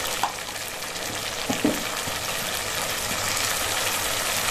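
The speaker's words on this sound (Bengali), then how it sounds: "সর্ষে বাটা 2 চামচ দিয়ে মশলাটাকে আমি কষিয়ে নেব" Spice paste of mustard paste and turmeric sizzling in a hot pan, a steady close frying hiss with a few light stirring scrapes and taps, no voices.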